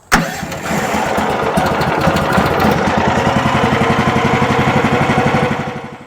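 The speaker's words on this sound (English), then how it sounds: "This Kohler Command Pro 14 horse engine is just fantastic." A Kohler Command Pro 14 horsepower engine on a MechMaxx sawmill cranks and catches abruptly, then runs loud and close with a rapid, even chugging pulse before cutting off at the end.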